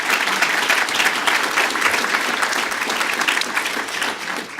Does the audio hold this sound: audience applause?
yes